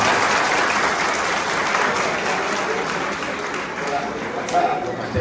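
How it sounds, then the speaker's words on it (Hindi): Students at an engineering college motivational talk break into loud applause, dense continuous clapping that holds steady for several seconds with a few louder claps near the end. "इनके लिए जोरदार ताली हो जाए"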